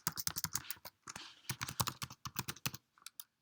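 Rapid bursts of typing on a computer keyboard, crisp close key clicks in quick runs with short pauses, as an email address is entered.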